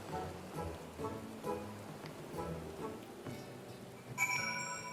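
Rain falling on a sanctuary island in Final Fantasy XIV, a soft continuous patter beneath game music and ambient tones, with a brief chime near the end.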